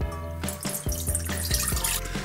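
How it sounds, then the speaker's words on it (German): Lukewarm water with dissolved yeast is poured into a mixing bowl for pizza dough, a gurgling, splashing pour broken into several short glugs and drips, close and clear. "Wenn sich dann die Hefe im lauwarmen Wasser schön aufgelöst hat, schütten wir die auch schön in die Schüssel"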